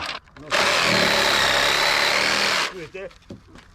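A power tool cuts steel reinforcement for a concrete chimney cap, running loud and steady for about two seconds before stopping, with brief clattering and handling noises afterward.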